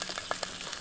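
Fried fish sizzles in hot coconut oil with curry leaves in a clay pot, a close, steady crackling hiss with a few brief louder pops, no talk.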